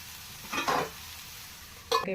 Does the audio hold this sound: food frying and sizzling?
yes